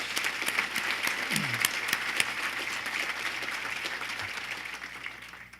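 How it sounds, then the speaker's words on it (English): A conference audience at an annual real estate forecast event claps in a moderate, steady round of applause that slowly thins and fades toward the end. "let's have a round of applause for all our Cornerstone and Sustainer members."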